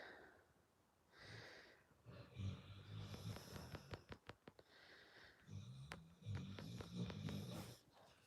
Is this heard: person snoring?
yes